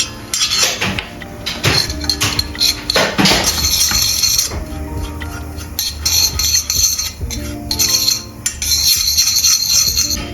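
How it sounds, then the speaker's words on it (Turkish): A metal spoon clinks and scrapes against a pot while semolina is roasted in melted butter for baby food, with busy, loud, irregular clatter from start to finish and no voices. "Tereyağı eriyince 1 yemek kaşığı irmiğimi ekliyorum ve kavuruyorum."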